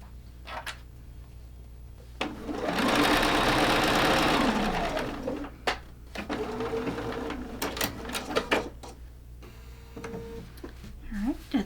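A sewing machine stitches a quilt block chimney seam in one short burst of whirring, followed by clicks, handling noises and a voice talking.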